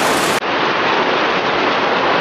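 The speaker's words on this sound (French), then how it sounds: "Là c'est la grosse pluie là." Heavy tropical rain in Gabon pours down in a dense, steady roar that barely changes throughout.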